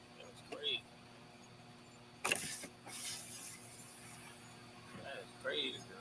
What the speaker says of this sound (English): Go and roll down your back window.